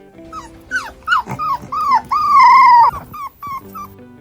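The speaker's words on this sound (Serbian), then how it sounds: "Ovako se čuje kada pas cvili." A dog whimpers in a series of high, wavering whines, one drawn out longer than the rest, close and fairly loud.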